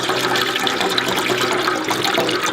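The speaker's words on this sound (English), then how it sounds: "To your apple juice, you're going to add 4 cups of apple cider." Apple cider poured into apple juice in a large pot, a steady, continuous splashing gush of liquid filling the vessel, close and fairly loud throughout.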